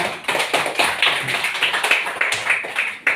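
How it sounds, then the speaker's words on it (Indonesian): Classroom applause for a student group after their presentation, a small number of people clapping in a quick, uneven rhythm with distinct individual claps standing out, close and fairly loud. "Sekali lagi tepuk tangan untuk kelompok 3"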